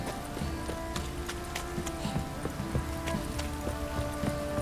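Rain falling in the video game The Witcher 3, a steady patter of drops under a quick clip-clop of horse hooves that runs throughout, with no talking.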